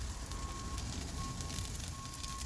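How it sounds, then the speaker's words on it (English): Outdoors, a vehicle backs up, its faint reversing beeps repeating in a slow, steady pattern over a constant crackling wash of background noise, distant and quiet, with no one speaking. "Somebody's backing up their vehicle."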